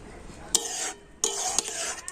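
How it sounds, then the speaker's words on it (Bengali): A thickening watermelon pudding mixture being stirred in a pan, two bursts of scraping with brief sharp knocks, close and moderately loud, no talking. "এইভাবে কন্টিনিউ নাড়াচাড়া করছে মিশ্রণটা অনেকটা কিন্তু টাইট হয়ে আসছে"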